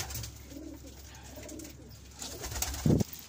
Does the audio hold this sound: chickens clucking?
no